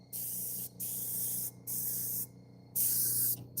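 Pump spray bottle misting a car-detailing product onto a car being prepared for a car show: four separate bursts of hiss, each about half a second to a second long, close and steady, with short gaps between them.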